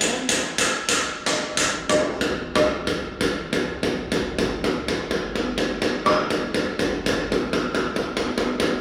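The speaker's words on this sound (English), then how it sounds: "I'm going to take my hammer and just gently tap that in." A hammer taps a rubber seal into the hub of a 2019 Diamond C tilt deck trailer, giving a long, steady run of quick metallic knocks that repeat about three or four times a second, close and evenly paced, with no talking.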